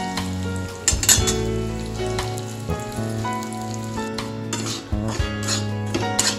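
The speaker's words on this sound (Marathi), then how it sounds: "तुपात मी रवा टाकलाय आणि थोडासा भाजून घेतलाय।" Semolina roasts in ghee in a pan for sweet shira, with a soft steady sizzle under repeated metallic clinks and scrapes of a spoon stirring, close and fairly loud.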